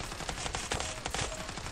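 Rapid automatic gunfire from the video game CS:GO crackles in quick bursts of sharp shots, several in close succession over a steady game background.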